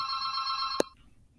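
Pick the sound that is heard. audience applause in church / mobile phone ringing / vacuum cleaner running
mobile phone ringing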